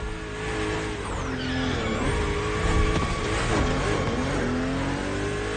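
BMW M2 and M4 race cars (2013–2014 series) in The Crew Motorfest, on a narrow road with sharp bends: loud revving engines rise and fall through gear changes, with tire squeal mixed in throughout.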